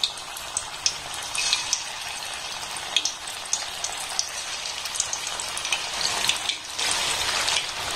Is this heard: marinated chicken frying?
yes